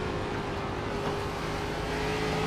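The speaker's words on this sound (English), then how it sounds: "listen to the sound of the car" A race car engine in a video game racing at Bristol Motor Speedway, giving a steady, loud, continuous droning whine at constant pitch with no talking.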